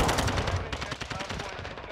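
Rapid automatic gunfire from Call of Duty: Modern Warfare 2, dense repeated bursts running continuously and loud throughout, with a voice talking faintly underneath.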